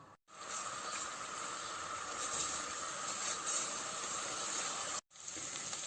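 Onions fry on a stove for a chana and mash daal, producing a steady, close hiss of sizzling oil that is broken by two very short silent gaps.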